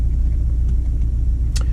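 Steady low engine drone and road rumble inside a moving Audi A6 Avant 2-litre TDI SE Ultra diesel estate, a constant close cabin hum with a brief brighter hiss near the end.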